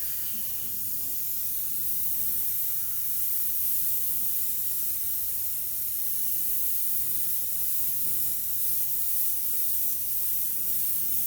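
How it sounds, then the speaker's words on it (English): An airbrush or spray can hissing continuously through a texture stencil while laying down light tones, a steady close broadband hiss with no pauses and no talk. "it's hard to see where you're spraying when you're spraying through a texture stencil"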